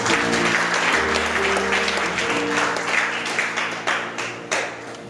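A church congregation bursts into loud applause, dense clapping with a low sustained hum beneath, gradually thinning into scattered claps that fade out.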